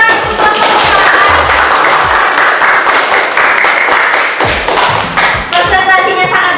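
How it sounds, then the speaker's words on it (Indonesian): Classroom applause for a student group during a teacher performance test session, dense claps with taps and thuds filling the room loudly, while a voice speaks over it. "Tepuk tangan untuk kelompok."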